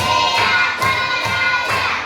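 Classroom of students clapping together in a steady rhythm, several loud collective claps with children's voices mixed in, close and busy.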